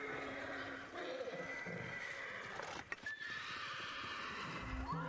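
A horse whinnies amid hoofbeats and a busy, synthetic-sounding ambient backdrop in the video game Ghost of Tsushima, with a voice speaking quietly underneath.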